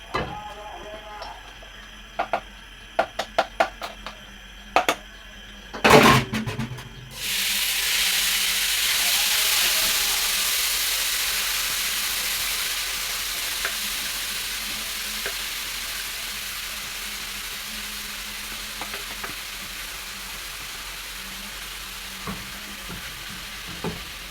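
Onions drop into hot oil in a pan after a few clacks of utensils, then a loud, steady sizzle of frying takes over and slowly eases, with occasional small stirring taps.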